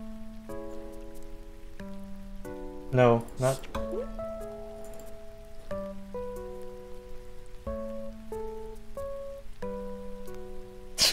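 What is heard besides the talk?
rain sounds from Animal Crossing video game ASMR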